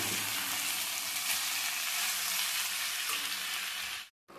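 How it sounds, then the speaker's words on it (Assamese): Small-cut bitter gourd fries in a pan with a steady, bright, hissing sizzle that holds evenly for about four seconds before cutting off abruptly near the end. "এতিয়াদি ভাতকেৰেলা সৰুকৈ কাটি ফ্ৰাই কৰিছোঁ"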